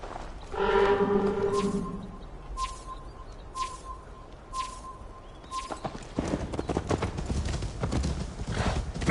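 Horse hooves clip-clop in a quick rhythmic gait in the video game Assassin's Creed Valhalla, with a voice talking over the start, chirping birds around, and the hoofbeats growing denser and louder toward the end.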